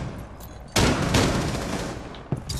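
Gunfire in Rainbow Six Siege, a sudden loud burst of shots that rattles on for over a second, then a second sharp crack near the end.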